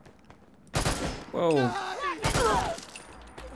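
Two loud, sharp bursts of gunfire in Fallout 4, close and sudden, separated by about a second and a half, with a man's exclamation in between.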